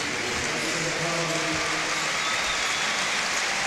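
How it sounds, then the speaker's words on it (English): Steady arena applause at a FIBA World Cup basketball game between Turkey and the USA, a dense continuous clatter of clapping from a large crowd, loud and unbroken, with faint voices mixed in. "Fareed again enters or goes off the court to rapturous applause"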